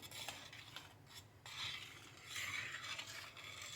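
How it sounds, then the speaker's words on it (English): Diluted yogurt is stirred in a pot, making quiet, close scraping swishes in a few uneven strokes. "you want to stir it around a few times and get everything mixed well"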